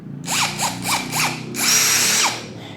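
INGCO CIDLI205 cordless brushless drill test-run in four short bursts of rising and falling whine, then a longer sustained run with a steady high tone, close and loud with no talk.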